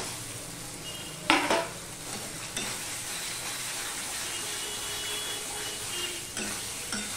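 Fried potatoes being stirred into yogurt in a pan while cooking katla fish Bengali-style, with a steady low sizzle and a few louder scrapes and clinks of the spoon against the pan near the start.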